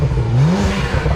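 A tuned, salvaged BMW 1M with a Stage 2+ tune revs briefly, its exhaust giving a loud, close throaty rise and fall with burbling crackle, heard alone without talk.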